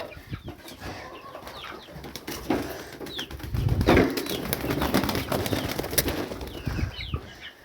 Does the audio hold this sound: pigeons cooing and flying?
yes